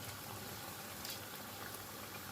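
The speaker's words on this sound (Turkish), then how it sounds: "Böyle bir baloncuk güzel, kolay, pratik pişileri pişireceksiniz." Yeast-free Turkish pişi dough fries in oil in a pan, giving a steady, soft hiss and crackle of bubbling fat, quiet and continuous throughout.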